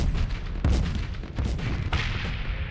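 Heavy cannon fire from the space combat game Starsector booms in several sharp blasts over a rumbling battle background, loud and close.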